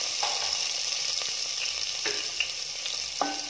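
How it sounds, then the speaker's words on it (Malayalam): Three cloves of garlic, sliced lengthwise, sizzle steadily in hot oil for a pearl spot fish curry, with occasional crackles and pops over a constant hiss. "ഒരു 3 അല്ലി വെളുത്തുള്ളി നീളത്തിൽ എരിഞ്ഞതാണിത്, അത് ഇതിലോട്ടേക്ക് ആഡ് ചെയ്ത് കൊടുക്കാം"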